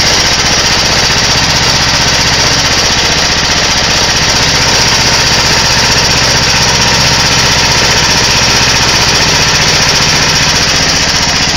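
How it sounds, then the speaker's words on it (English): A Fisher and Paykel Smart Drive washing machine direct-drive motor runs loud and close at about 1800 RPM, its slowest speed, with a steady, buzzing mechanical drone that never changes pitch or pauses. "we've basically got this engine running on its slowest RPM"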